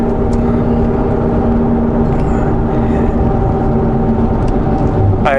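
A truck with a failing transmission runs with a steady droning engine and a sustained mechanical whine, continuous and fairly loud, with faint clicks and no talking.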